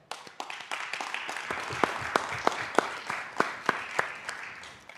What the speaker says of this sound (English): I think that should deserve an applause right now.